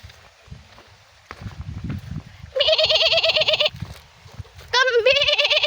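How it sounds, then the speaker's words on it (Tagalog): A goat bleats loudly twice nearby, wavering cries standing out over quieter background rustling and low murmurs. "Kambing!"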